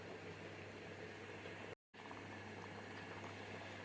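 Sweet adjika with apple bubbles in a pot on the stove, a steady soft boiling hiss and burble heard up close, with a brief cut to silence partway through and no voices.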